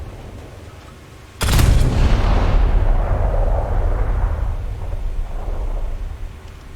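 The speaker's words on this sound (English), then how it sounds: "These guns have a pretty decent rate of fire." Naval guns of a Yugumo destroyer fire in the War Thunder video game, a sudden heavy boom that rolls into a sustained rumbling roar and slowly fades.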